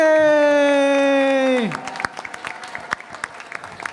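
A concert audience breaks into applause as a sung, hummed note fades out, the clapping then scattered and moderate in a hall.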